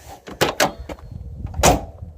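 Tofaş Şahin 1.6 car door shut several times, giving a few solid thumps with quieter clicks between them, close by and with no talk.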